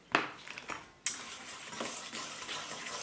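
Pancake batter of flour and milk being stirred in a bowl, with soft scraping and clinking of a utensil against the dish, a sharp knock near the start and steady mixing noise that continues without talk.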